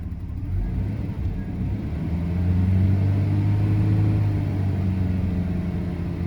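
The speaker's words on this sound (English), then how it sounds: "There we go, it's getting lean. least I think so. Injectors are getting noisier." A Jaguar XJ40 engine idles while running lean, a low steady rumble with a faint ticking of noisy fuel injectors, close by, swelling slightly midway and holding fairly even.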